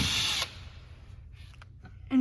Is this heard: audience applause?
no